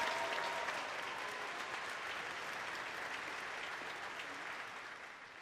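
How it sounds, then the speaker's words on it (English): A crowd at a university commencement ceremony gives a sustained round of applause, dense and even throughout, tapering slightly toward the end with no talking. "Let's give them another round of applause."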